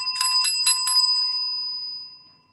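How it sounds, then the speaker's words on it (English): A bright metal bell, like a bicycle bell, rings four quick times in a row, loud and close, then its tone lingers and slowly fades away alone with no voices. "let's ring some bells for Kristen"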